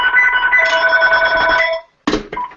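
A telephone rings loudly and close by, a steady electronic bell warble lasting almost two seconds, then cuts out, followed by a couple of short clattering handling noises.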